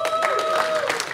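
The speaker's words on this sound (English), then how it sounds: "have a big round of applause for our panel of judges" A brief burst of crowd applause, clapping spread across the room, with a voice faintly audible underneath.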